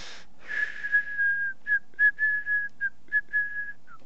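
A person whistles a short, steady tune alone and close, in a string of clear held notes broken into several separate phrases.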